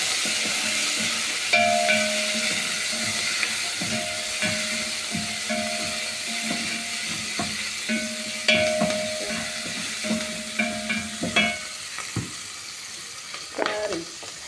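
Onions frying in a pan, a steady close sizzle punctuated by repeated scraping stirs and clicks, with a faint recurring tonal hum and no talking.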